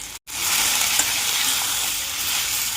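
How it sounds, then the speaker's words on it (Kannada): Ginger, garlic and onion frying in a spoonful of oil for Malnad-style mutton sambar, a loud, close, continuous sizzle after a brief silent gap at the start, with no talk. "ಇದಕ್ಕೆ 1 ಸ್ಪೂನ್ ಎಣ್ಣೆ ಹಾಕೋಣ ಸಾಕು. ಈಗ ಚೆನ್ನಾಗಿ ಫ್ರೈ ಮಾಡೋಣ."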